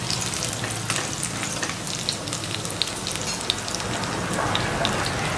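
Garlic and chillies sizzle steadily in oil in a very hot iron kadhai, a dense continuous crackle with tiny popping spatters throughout, close and alone with no talking.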